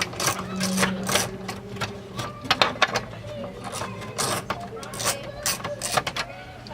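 A 9/32 socket on a small extension ratchets out a screw from a Ford Explorer fuse and relay box, producing rapid clicking bursts close by, with someone talking over the work.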